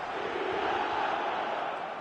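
A stadium crowd roars steadily in the football video game eFootball 2026, a dense continuous wash of cheering with no break.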